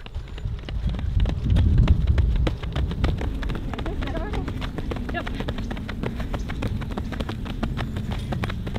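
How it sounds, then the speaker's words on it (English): Horse hooves clip-clopping in a steady, rapid rhythm throughout, fairly near and persistent alongside a goat, with people talking over them. "Look at the horse and the goat."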